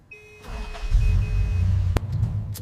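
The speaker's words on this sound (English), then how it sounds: "A turn of the key, and the Impala awakens, its systems humming, ready for the roar of its powerful engine." A 1964 Chevrolet Impala SS starts up, a faint electrical hum giving way to a loud low engine catching and settling into a rumbling idle, with a sharp click near the end.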